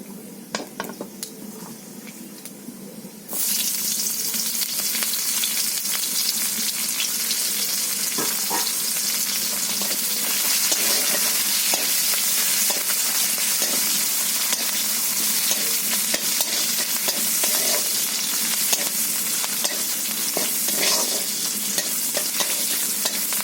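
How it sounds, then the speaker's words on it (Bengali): Green chillies and chopped onion hit hot tempering oil with a sudden loud sizzle, then fry steadily under continuous stirring and occasional scrapes of a utensil against the pan, close and without speech. "এখানে চেরা কাঁচা লঙ্কা এবং পেঁয়াজ কুচিয়ে রেখেছি বন্ধুরা, ওটা আমি ফোড়নের মধ্যে দিয়ে দিচ্ছি।"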